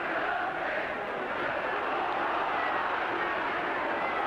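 Football stadium crowd at Liverpool v Manchester United, 1969, roaring approval of a referee's decision: a dense, steady wall of cheering and shouting throughout, loud and sustained with no pauses.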